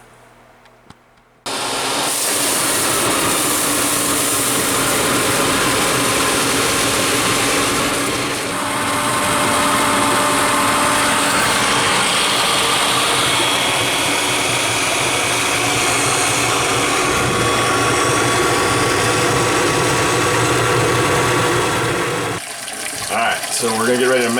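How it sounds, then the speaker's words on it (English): A steady homebrewing pump hums while liquid continuously recirculates and splashes during the mash, running loud and even for most of the stretch before cutting off near the end. "So I got the pump running this, it's recirculating."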